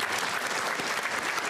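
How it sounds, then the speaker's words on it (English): Audience applauding at a scholarship leadership breakfast as award recipients are honored; steady, dense clapping from a large crowd throughout, with no talk over it. "let's give a round of applause to the 2018 Greater Boston Real Estate Board Scholarship Funds recipients"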